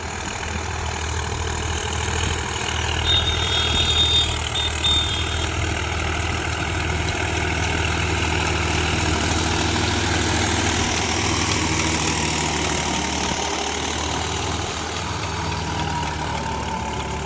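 A Swaraj 744 4x4 tractor engine runs at medium throttle in first gear, a steady, close diesel rumble with a low droning throb that holds evenly throughout without speech.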